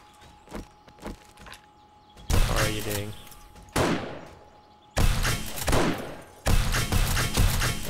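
Repeated gunfire blasts from a shotgun turret in the survival game 7 Days to Die: a few faint thumps, then several loud, dense bursts of shots that come and go across the stretch.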